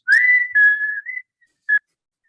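A clear, melodic whistled tune with a few sustained notes and short phrases, ending with a brief final note after a pause.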